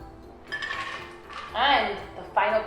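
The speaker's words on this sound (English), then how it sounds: "We are going to strain into our glass." Cocktail strained from a shaker into a glass at a home bar, with metallic clinks and a rattling, swirling pour in two bursts, loud and close, a voice briefly audible.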